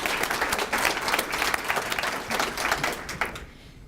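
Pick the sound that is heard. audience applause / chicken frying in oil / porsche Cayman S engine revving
audience applause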